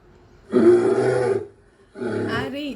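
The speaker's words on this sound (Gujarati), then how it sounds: "શિયાળની લારી સાંભળો." A wolf or jackal call rings out in two loud, close bursts: a sustained harmonic cry followed after a short pause by a second cry with a rising pitch, with no talking.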